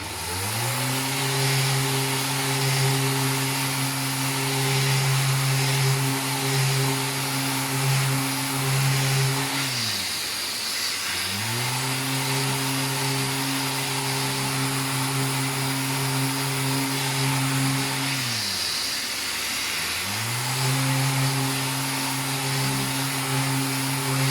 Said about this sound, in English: We'll just give it a quick sand or a quick vac